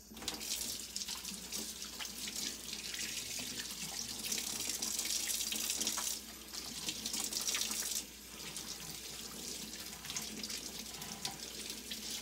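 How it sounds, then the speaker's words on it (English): A kitchen tap runs steadily into a sink while hands are washed, a loud continuous splashing rush with brief shifts in the flow as the hands move under the water. "I'm gonna wash my hands real quickly"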